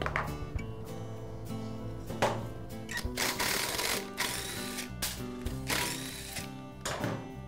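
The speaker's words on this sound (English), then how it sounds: "And now I'll remove the carburetor." Hand tools click and ratchet in a rapid, uneven series while a carburetor is taken off a lawn mower engine, with sharp metallic clanks and rattles between the bursts, close up and with no voice.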